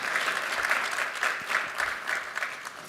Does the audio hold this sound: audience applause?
yes